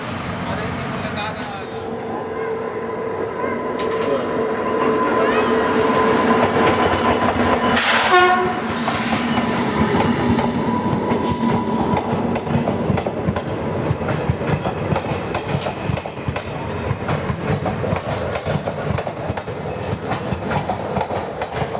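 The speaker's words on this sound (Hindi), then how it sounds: "तो ये आ गई छत्रपति संभाजीनगर गुंटूर एक्सप्रेस" The Chhatrapati Sambhajinagar–Guntur Express pulls into an Indian station with a low platform. Steady rolling rumble and wheel clatter build, a brief horn sounds midway, and a voice talks over the passing coaches.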